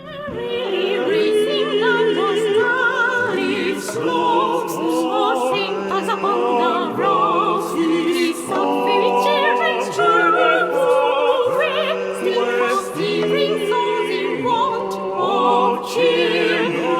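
Bright orchestral Final Fantasy XIV music from the Starlight Chocobo orchestrion roll plays continuously, layered strings and melodic lines with steady rhythm, loud and close, no voices.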